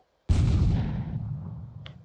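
An F-18 Super Hornet in a Roblox game fires a rocket: one sudden loud blast that rolls off into a rumbling decay over about two seconds, with a small click near the end.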